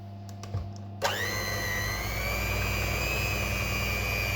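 Electric mixer whirring steadily through batter with coffee and cocoa mixed in, switching on abruptly after a few faint knocks and then running loud and continuous.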